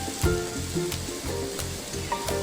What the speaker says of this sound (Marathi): टोमॅटो आणि कांदा चांगला भाजून घ्यायचा, परतून घ्यायचा.